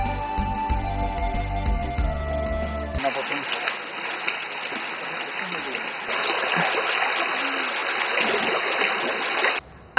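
Crystal-clear water of the San Marcos creek in Buenaventura, Colombia, flowing with a steady close babbling and trickling rush, preceded at the start by someone talking.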